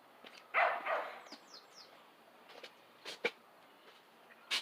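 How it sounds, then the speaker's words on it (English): A female dog gives a few scattered barks and yips, brief and fairly close, with quieter gaps between them and faint bird chirps in the background. "Is she barking at you guys, bud?"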